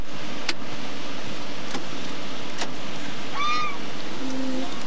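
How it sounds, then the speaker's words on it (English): A goose honks by the water at an outdoor polar bear plunge, a short harmonic call rising briefly over steady wind and surf-like background noise, with no talking. "Goose is waiting for you"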